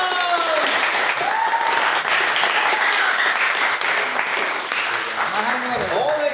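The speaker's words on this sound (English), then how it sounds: "Can I get a round of applause?" A meeting audience applauds the candidates with sustained, dense clapping throughout, loud and close, with faint voices and whistles mixed in near the end.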